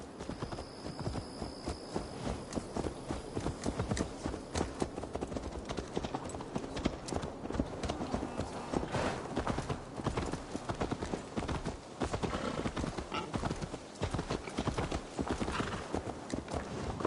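Horse hooves clip-clop steadily and continuously in Assassin's Creed Valhalla, joined by a whinny, with the footfalls keeping an even walking rhythm throughout.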